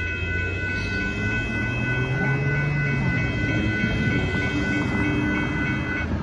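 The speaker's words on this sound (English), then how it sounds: "There goes the Northbound Union Pacific Intermodal with the Canadian Pacific as the second mid DPU" A northbound Union Pacific intermodal freight train with a Canadian Pacific mid-train unit passes a road crossing at Dittmar Road in Austin, Texas, making a steady loud rumble and clatter of rolling cars with a continuous drone, no talking.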